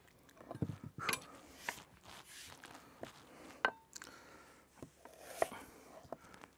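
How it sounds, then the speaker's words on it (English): A knife slicing onions thinly on a board for a summer squash and beetroot relish, giving irregular close, quiet chopping taps and scrapes without speech. "Thinly slice your onions"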